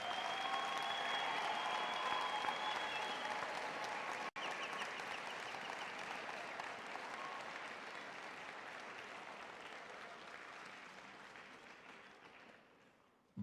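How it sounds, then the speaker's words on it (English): Sustained, thunderous applause fills a hall for graduates at a UNISA autumn graduation ceremony, a dense wash of clapping from a large audience that slowly fades over about thirteen seconds. "give the graduates another thunderous round of applause"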